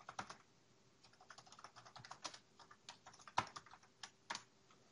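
Fingers type a command on a computer keyboard during a Windows Server 2012 Essentials software install, giving soft, close clicks in an uneven run of short bursts with pauses, and no speech.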